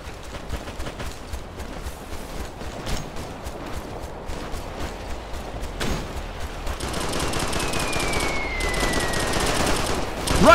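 Combat gunfire in the military shooter Operation Flashpoint: Red River: rapid machine-gun bursts and rifle shots crackle continuously, growing denser and louder toward the end amid battlefield noise.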